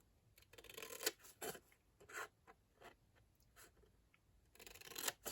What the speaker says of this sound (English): these little squares here, we're going to cut up straight